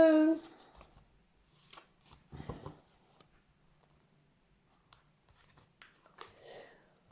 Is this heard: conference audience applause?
no